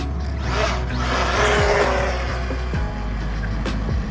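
An Arrma Mojave 4s RC car runs at full throttle in a speed test, its electric motor whining and rising steadily over a continuous rumble of wheels on the ground, fairly loud and close, with no talking.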